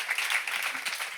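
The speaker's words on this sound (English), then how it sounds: "give a round of applause to Renée" Audience applause at a climate book launch for Renée LaPlante, a brief burst of steady, fairly loud clapping from a room of people, dense and even throughout with no voices on top.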